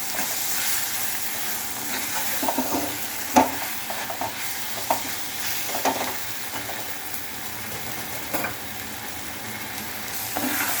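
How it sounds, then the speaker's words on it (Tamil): Tomatoes sautéing in a pan for a cauliflower and potato kurma make a continuous loud sizzle, with periodic sharper crackles and spoon stirs scattered throughout. "இது வந்து தக்காளி வந்து வதங்கிட்டு இருக்கு."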